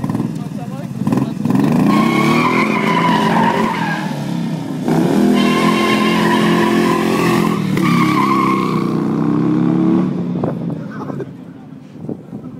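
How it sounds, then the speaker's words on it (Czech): A 100 hp Morgan Three-Wheeler is driven in action, its engine surging and revving loudly with changing pitch while someone talks over it throughout. "Vozidla Morgan Three-Wheeler dnes naposledy máte jedinečnou šanci vidět toto vozidlo tady v akci."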